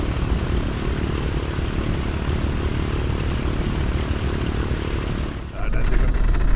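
Simulated Commander 114 piston aircraft engine running lean on the ground in Microsoft Flight Simulator, a steady loud propeller drone that dips briefly near the end before resuming with a thicker low rumble.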